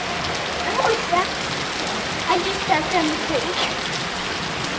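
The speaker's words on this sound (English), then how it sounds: "It's definitely raining a lot." Dense, steady heavy rain pattering on a street close by, with a person speaking briefly over the downpour.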